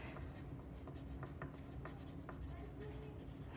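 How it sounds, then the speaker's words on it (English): Pencil scratching on paper as a name is written before an art lesson on a Paul Klee style castle and sun, a soft continuous scraping with faint tapping strokes under a low room hum. "First thing we're going to do is write our name"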